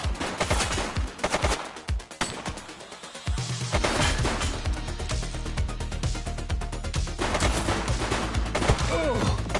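Rapid automatic gunfire and bursts of shooting in the police video game The Precinct, loud and dense throughout with heavy low-end thumps, a voice briefly heard over the firing.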